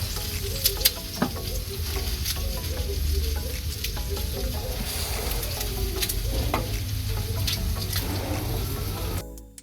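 Unpeeled garlic cloves sizzle steadily in a hot pan on a woodfired Dover stove, with an even frying hiss and a few light clinks from stirring, close and without speech.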